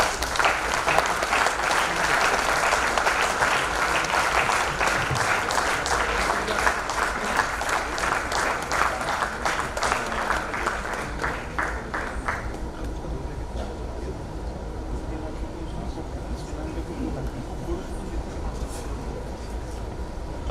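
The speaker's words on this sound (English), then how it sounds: "let's welcome them with a huge round of applause" A hall audience gives a huge round of applause welcoming a team onto the stage at a college installation ceremony, loud dense clapping for about twelve seconds that then fades to scattered claps and murmuring talk.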